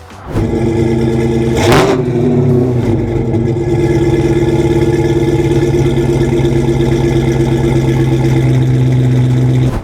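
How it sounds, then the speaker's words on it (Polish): A loud Dodge Challenger engine rumbles steadily at idle through its exhaust, with a sharp rev blip near the start before settling into a deep, constant drone. "mamy tutaj układ wydechowy, z którego wydobywają się"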